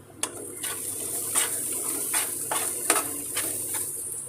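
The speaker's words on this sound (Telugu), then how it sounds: "కొద్దిగా ఎర్రగా వేయించుకొని ఆయిల్ అవుట్ అయ్యే వరకు వేయించుకోవాలి" An onion-tomato masala for mushroom curry fries in oil with a steady sizzle, cut by a few sharp clinks and scrapes of stirring in the pan.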